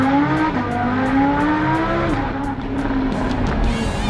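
A Ferrari turbo engine revs hard close by, its pitch climbing steadily as it accelerates, loud and continuous with no talking.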